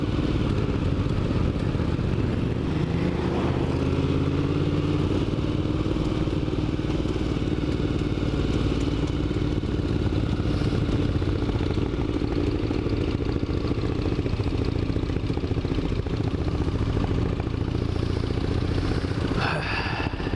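Honda VFR motorcycle engine while riding, a continuous loud hum with wind rush close to the rider that holds steady throughout with slight rises and falls in pitch, and no talking over it.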